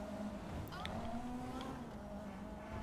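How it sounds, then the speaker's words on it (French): A steady, droning motor hum with a slowly shifting pitch runs throughout, from a bathtub vehicle with a water engine idling in GTA 5. "Eh, c'est un moteur... C'est un moteur à eau, quoi."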